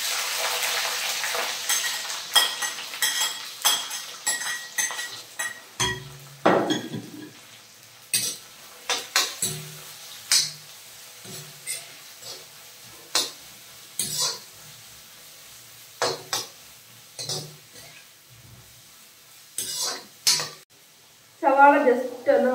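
Chopped onions and green chillies sautéing in a pan for a bitter gourd subji, intermittent sizzling bursts and scraping stirs with clinks of a spoon against the pan, fairly close.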